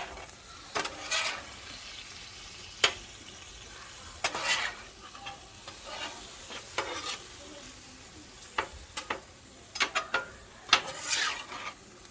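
Chicken wrap filling with Thai sweet chilli sauce stirred and scraped on a hot griddle, a steady sizzle broken by repeated sharp spatula clacks and scrapes at an uneven rhythm, close and clear with no talking.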